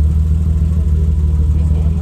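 A car fitted with an Arch cabriolet kit idles close by, its engine a steady low rumble with no changes in pitch.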